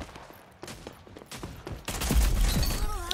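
Rapid video game gunfire crackles in bursts, growing louder and denser toward the end with a reloading clatter mixed in, close and continuous.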